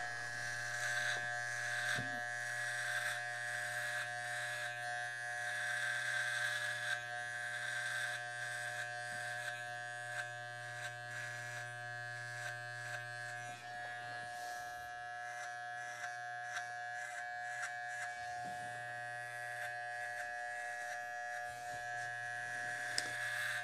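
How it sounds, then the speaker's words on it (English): An electric beard trimmer buzzes steadily and close up while cutting hair during a high skin fade haircut, a continuous motor drone with small shifts in pitch as it moves over the head. "Before we go over it with the beard trimmer, it has to be cut as close as possible, otherwise the beard trimmer won't cut the hair."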